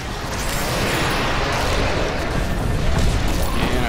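An explosion in Diablo 3: a loud, sustained rumbling roar of blasts and crackling fire filling the whole span, dense and close, with no voices.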